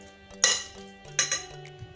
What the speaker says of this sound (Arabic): Donc je mélange mes épinards avec la mozzarella.